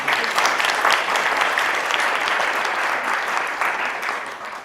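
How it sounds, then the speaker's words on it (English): Crowd at a community awards ceremony applauds loudly and continuously, a dense, even roar of many hands clapping that holds steady and eases slightly toward the end. "Let's give them a round of applause as they're coming."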